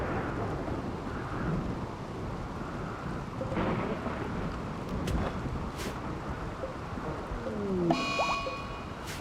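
Steady video-game rainfall hisses continuously with low rolling thunder underneath, a few sharp crackles and a faint electronic chirp near the end, no talking.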